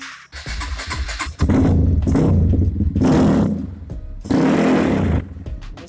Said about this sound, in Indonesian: suara mesinnya teman-teman.